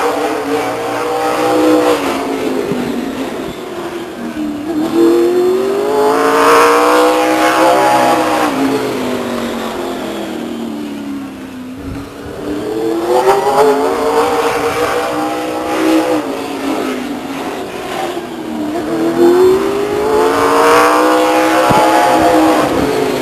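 Late model stock race cars lapping Stockton 99 Speedway, engines roaring loudly as they pass in repeated waves, pitch rising and falling with each car, with no voices over the noise.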